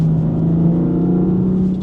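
A deep, steady exhaust drone from a nearby BMW M4 F82 with its secondary catalytic converters removed, loud and rumbling at a constant idle-like pitch.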